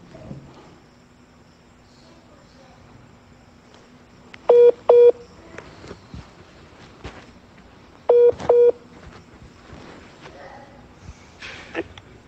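Telephone keypad dialing tones sound in two short paired bursts of beeps, loud and close, with faint handling noises and quiet background sounds between them.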